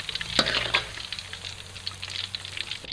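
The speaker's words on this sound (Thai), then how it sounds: "การทอดปลาดุกรอบสองนะครับต้องใช้ไฟแรงนะครับ" Catfish pieces frying in hot oil over high heat for a second crisping round, a steady dense sizzle and crackle with a few sharper spits early on, close and continuous with no talking.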